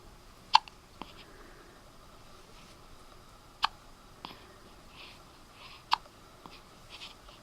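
Three sharp hiccups, each trailed by a softer second catch, spaced a few seconds apart in a quiet room.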